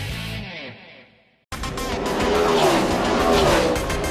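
Stock cars race past on a New England NASCAR-style short track, engines roaring loud and sustained with a passing whine, after a brief quieter lead-in that cuts abruptly.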